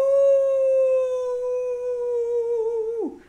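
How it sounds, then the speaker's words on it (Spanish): A single long, steady howl from a dog, close and clear, holding its pitch before dropping off at the end, with no other sounds. "aullar, es uno de los sonidos que emite el perro"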